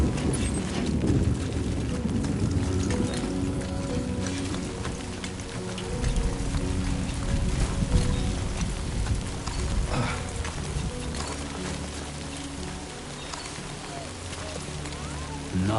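Rain in Death Stranding 2 on PS5 Pro: a continuous close hiss of rainfall spattering on surfaces, heard steadily throughout beneath a droning in-game musical backdrop.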